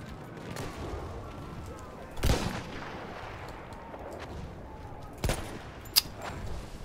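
Gunfire in the video game Battlefield 1: a few sharp, isolated shots at irregular intervals over a quiet background, moderately faint.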